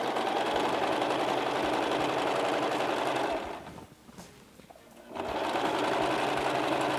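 A sewing machine stitches gathers on a sleeve, a fast steady whirring hum of stitching that pauses for about two seconds in the middle and then picks up again.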